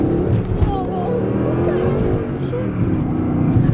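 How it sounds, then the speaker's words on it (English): A Mercedes SL V8 engine with a modified exhaust burbles and rumbles, rising slightly as it accelerates, with a voice talking over the engine noise. "there's definitely something done to the exhaust. So it sounds even nicer than it usually sounds."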